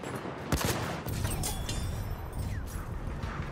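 Battlefield 1 rifle fire from the RSC, a sharp shot around half a second in amid a dense battlefield bed of distant gunfire and booms, with further cracks and whizzes scattered through the rest.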